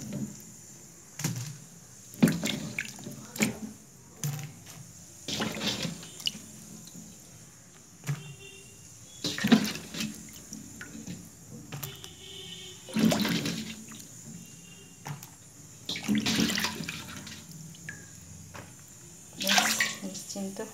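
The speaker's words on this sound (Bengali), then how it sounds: "সবজিকে ধুয়ে তুলে ঠিক জায়গায় রাখা একটা বড় কাজ।" Vegetables washed under running water in a home kitchen: splashing and gushing water in repeated bursts, with pauses of softer handling between them. Close and moderately loud, with a voice speaking faintly underneath at times.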